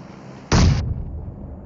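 A single loud grenade blast in a shooting video game, a short sharp burst that cuts off quickly into quiet game ambience, with no talking.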